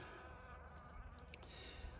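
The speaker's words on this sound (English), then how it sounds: "The bees are looking for water already this morning." Honey bees fly on an end-of-winter morning, searching for water, giving a steady, close insect buzz over faint background hiss for about two seconds, with no speech.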